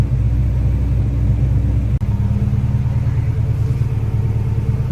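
Turbocharged Mazda Miata with an AEM install idling loud and close, a steady low rumbling engine with a brief dip midway, no talk.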